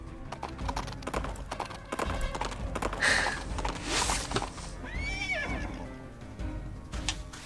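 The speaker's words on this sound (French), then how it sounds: "Tu reviens en cheval!" A horse in the Princess Peach Showtime video game clip-clops steadily throughout and lets out a clear whinny partway through, with the hoofbeats close and the game audio otherwise sparse.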